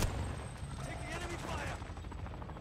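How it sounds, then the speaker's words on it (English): Warzone 2 gunfire pops repeatedly in quick bursts amid a busy, noisy battle mix, moderately loud and partly masked by a voice talking over it. "I'm actually getting shot from somewhere else now"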